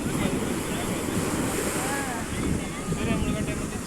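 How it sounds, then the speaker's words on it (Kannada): Large ocean waves break and wash at Maravanthe beach, a steady broadband roar of surf mixed with wind buffeting the microphone, continuous and fairly loud with no clear pauses. "ಎಷ್ಟು ದೊಡ್ಡ ದೊಡ್ಡ ಅಲೆಗಳು ಬರ್ತಿದೆ."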